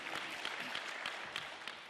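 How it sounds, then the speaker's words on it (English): Audience at a G20 community engagement town hall in Rustenburg breaks into steady, dense applause, a continuous wash of many hands clapping that fills the room with no voices over it. "They deserve a round of applause."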